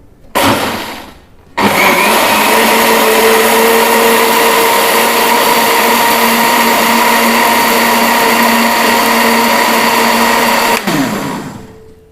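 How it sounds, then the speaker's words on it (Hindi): A mixer grinder whirs loudly, grinding sugar and eggs into a froth; a short burst starts, pauses briefly, then the motor runs in one long steady whine before cutting off near the end. "ये मैं अभी इसको ग्राइंड करके आपको दिखाती हूँ।"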